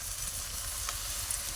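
Water poured into meat frying in a pan, a loud continuous hiss and sizzle up close with a faint brief clink partway through.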